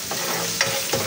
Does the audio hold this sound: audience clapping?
no